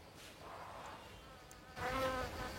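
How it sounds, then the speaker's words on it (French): A fly buzzes in the film The Ninth Gate, a thin, wavering drone heard close and quiet, growing louder near the end as the insect passes near. "on entend une mouche."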